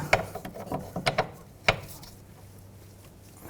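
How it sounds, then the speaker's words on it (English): A ratchet with a 19mm socket clicks in a few sharp metallic bursts while loosening the brake caliper bracket bolts on a 2002-2006 Nissan Altima, close and brief, then a quiet pause. "We're going to take the bracket off now. Use a 19mm socket."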